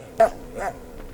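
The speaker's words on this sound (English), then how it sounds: "A pet dog sounded the alarm of our arrival" A pet dog in an Iraqi home barks twice in quick succession, close and loud, with a short pause between the sharp bursts.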